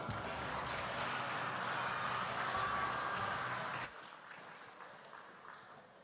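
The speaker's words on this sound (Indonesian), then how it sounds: "Sekali lagi boleh kasih tepuk tangan yang meriah" An audience at a small-business creative expo applauds for about four seconds, a dense roomful of clapping that stops abruptly, leaving quiet hall ambience with faint ticks.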